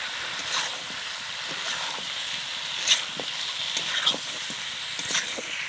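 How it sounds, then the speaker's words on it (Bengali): Chicken with chili powder sizzling and frying in a pan, a steady loud hiss with scraping clicks and knocks as it is stirred, close by. "এবার আমি ভালো করে কষে নেব।"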